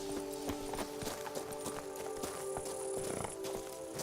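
Hooves of Roach, a horse in the video game The Witcher 3, clop in a steady walking rhythm, close and clear over a constant tonal game ambience, with no talking.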